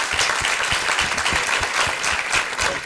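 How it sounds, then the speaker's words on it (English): Steady, dense applause from a large crowd, many hands clapping continuously at close range with no pauses, at a university faculty research day event. "let's give the DCJ a huge, very huge round of applause"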